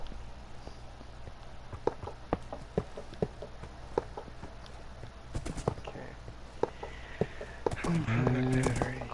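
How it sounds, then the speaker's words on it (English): Faint horse hoof clops in a Minecraft game, soft scattered taps at a steady walking pace behind low background noise, with a brief louder burst of game sound near the end. "What's that noise? It'd be a horse."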